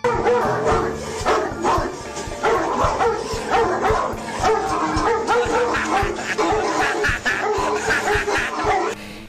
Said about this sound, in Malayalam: കൂട്ടിൽ കിടന്ന നായ ഇയാളെ കണ്ട് കുരയ്ക്കുകയുണ്ടായി